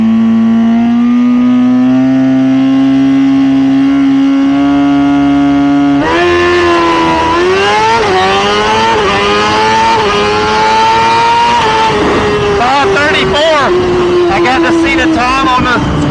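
A 2018 Suzuki GSXR 1000 motorcycle holds a steady high-rpm drone for a drag launch at around 8,200 RPM, then roars off with rising, shifting engine pitch, very loud and close throughout.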